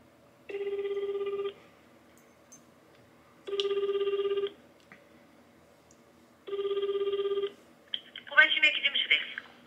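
A telephone call rings out: three evenly spaced electronic ringback tones, each about a second long with pauses between, then a voice answers at the end.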